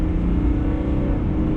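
A 2021 GMC Sierra 1500 AT4 pickup with the Duramax diesel and bigger tires accelerates, giving a steady, smooth low engine drone with even road rumble throughout, heard from inside the cab with no talking.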